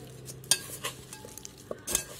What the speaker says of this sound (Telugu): బాగా కలిపేసుకోవాలి ముక్కలకి పట్టేదాకా కలిపేసుకోవాలి